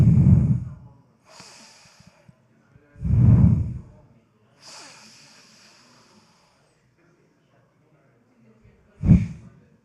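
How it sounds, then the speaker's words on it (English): Breathing exercises for seniors, with air drawn in and pushed out through one nostril: three heavy, close snorting breaths spaced several seconds apart, with softer hissing exhales between them and no talk. "Now we are breathing in one nose 3 times."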